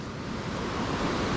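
Steady broadband rush of water from a mountain waterfall, a constant, dense roar with no breaks, moderately loud and unaccompanied by voices.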